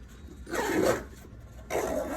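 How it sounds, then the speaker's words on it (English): Zipper pulled along the pocket of a Carryology Evade 1.5 bag, two smooth close sweeps separated by a short pause, fairly quiet with no talk. "Just really smooth on the zippers for this one."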